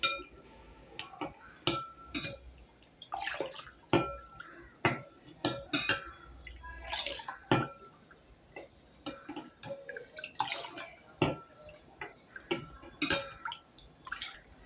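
A spoon stirs Malvani solkadhi in a pot, with repeated light clinks and taps against the metal at an uneven rhythm, close but fairly quiet.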